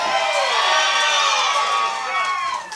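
Wrestling crowd in Knoxville cheering and shouting, a loud unbroken roar of many voices that holds steady and eases slightly at the end.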